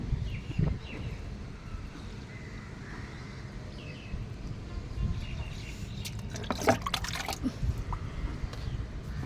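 Garden plants such as rose, jasmine, brinjal, chilli and tomato being watered outdoors, a soft continuous trickle and splash of water with a few louder splashes, steady and close throughout.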